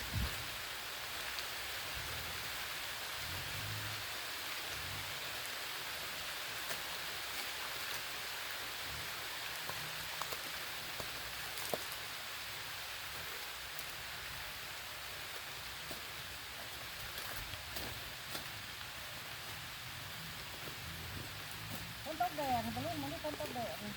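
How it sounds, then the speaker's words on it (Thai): Heavy rain falls steadily in a dry dipterocarp forest, a dense, constant hiss of rainfall heard from close by for the whole stretch, with a faint voice near the end. "ฝนลงมิดพี่น้องเอ้ย"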